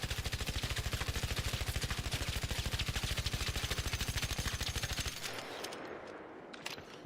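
Rapid automatic gunfire from a weapon fitted with a muzzle brake in the video game Arc Raiders, a long steady burst of evenly spaced loud shots that stops abruptly, leaving a short ringing tail.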